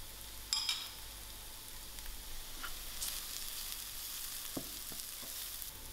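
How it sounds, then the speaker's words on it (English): Vegetables and carrots with Chinese five-spice fry in a pan for vegetarian spring rolls, giving a faint, steady sizzle with a few soft clinks and stirring scrapes, no voices. "I'm also going to add in my carrots, and I'll allow this to fry for a few seconds"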